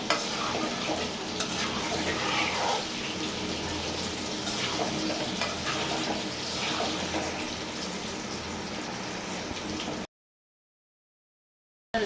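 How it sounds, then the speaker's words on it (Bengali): Steady dense sizzling of potatoes frying in a pan, continuous and fairly loud, with faint stirring scrapes; it cuts off near the end. "আমি সব রান্নাতেই আলুটা একটু হালকা ভেজে নিই"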